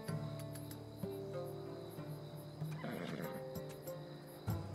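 A horse in the game Assassin's Creed Odyssey gives a clear whinny, with crickets chirping steadily in the background and a few soft hoof sounds, no speech.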